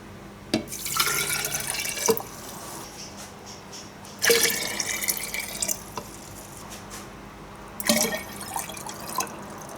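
Water is poured in three separate bursts, as if cup by cup, into a vessel for making water kefir, each pour splashing loudly and then trailing off.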